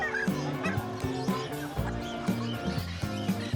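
Cornish Bantam chickens, short-legged and compact, call from their cages at the Grotto pet market. Several overlapping honking clucks repeat in quick bursts over a busy, crowded background.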